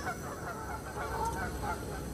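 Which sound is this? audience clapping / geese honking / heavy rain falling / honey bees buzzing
geese honking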